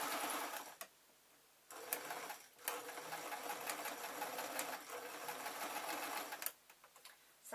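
Domestic sewing machine stitching felt pieces for an elephant pin cushion, running in steady rapid bursts with brief pauses between seams, close and clear with no talk.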